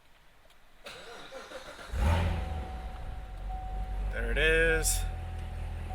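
A Corvette C7 Z06 engine cranks and fires up with a loud roar, then revs briefly before settling into a deep idle; someone speaks briefly.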